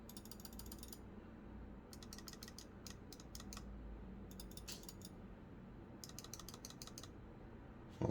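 Razer Basilisk Ultimate mouse buttons clicking in quick bursts of sharp, close clicks, four clusters of rapid taps separated by short pauses over a steady low background hum.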